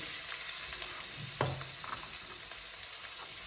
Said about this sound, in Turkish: Biberlerimi şöyle iyice güzelce bir kavuruyorum.